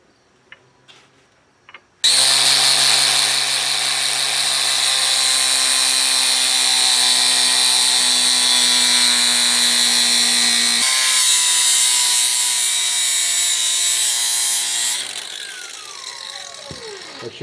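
Power tool cutting clearance for a socket during a 4L80E transmission install in a thirdgen Camaro: a loud, steady high-pitched whine starts abruptly and runs about thirteen seconds, shifting pitch partway, then winds down, close with no talk.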